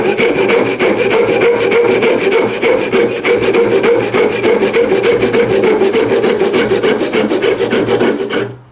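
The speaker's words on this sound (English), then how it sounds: "we're just going to take our little gent saw," A small gent saw cuts by hand through wood held in a vise, with loud, close, rapid back-and-forth strokes in a steady rhythm that continue for several seconds and then stop abruptly.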